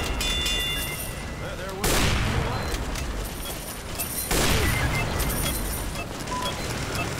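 Two loud explosive sniper shots in the Team Fortress 2 Mann vs Machine mode ring out about two and a half seconds apart, each a sharp broadband blast over dense, continuous game noise of battle and effects.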